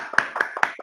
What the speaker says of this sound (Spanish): Vamos a darle un aplauso a todos